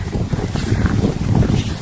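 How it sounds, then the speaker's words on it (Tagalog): Strong wind during a snowfall buffets the microphone in loud, rumbling gusts throughout, with no clear voices. "Malakas ng hangin, no?"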